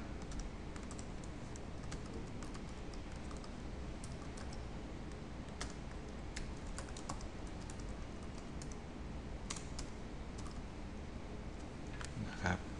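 Quiet, continuous typing on a computer keyboard as a quiz name is entered, soft key taps in an irregular rhythm over a low background hum, with no one speaking.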